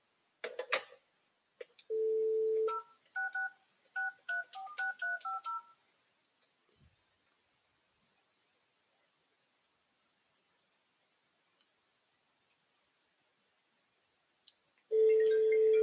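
An IP phone on an Openvox UC300/UC500 IP PBX dials an outgoing call: a quick run of DTMF keypad beeps and short tones, several silent seconds, then the ringback tone starting at the end.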